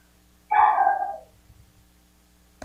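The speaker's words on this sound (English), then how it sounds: "You can probably hear my puppies barking right now." A single short dog bark, fairly close and clear, followed by quiet with faint background thumps.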